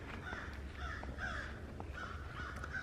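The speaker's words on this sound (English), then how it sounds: "Black crows." Black crows caw repeatedly in an irregular chorus from a moderate distance outdoors near a small bridge, over a steady low rumble of wind or background noise, with no one speaking.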